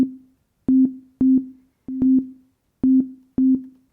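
A kick drum sample triggered by MIDI notes in a software sampler, thumping out short punchy hits in a repeating syncopated pattern, some struck in quick pairs, each with a sharp click on top of a brief decaying low boom.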